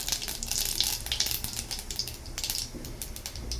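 Radhuni seeds tempering in hot oil in a kadai give a steady, close sizzle with crackling hiss, heard alone without talk.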